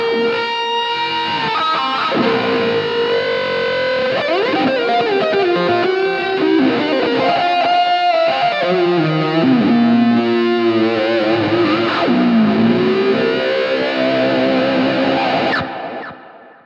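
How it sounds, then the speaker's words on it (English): Distorted electric guitar played with a wah pedal sweeping and boosting the harmonics, heard as a loud, continuous melodic line with shifting squealing tones and effects, no talking. "you can use a wah pedal to really amplify those harmonics"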